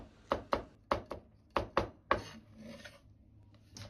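A kitchen knife chops a carrot into strips with about seven crisp, quick strokes in an uneven rhythm, each a close, sharp knock, followed by a soft scraping and a final cut.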